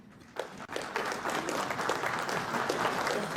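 An audience at a forestry competition award ceremony in Lithuania breaks into applause for Romas, starting with a few scattered claps and swelling into steady, dense clapping from the crowd.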